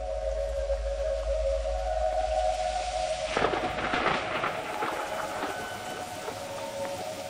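Thunder rolls during a rainstorm in the Brazilian forest, a deep rumble that builds into a crackling peak and then fades into a long low rumble, with a steady tonal hum underneath.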